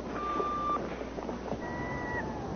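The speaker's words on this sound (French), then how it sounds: "vous pouvez nous laisser un message après le bip" An answering machine's electronic beep sounds after a French outgoing greeting, a steady tone held briefly then another higher tone later, over a faint hissy background with no talk.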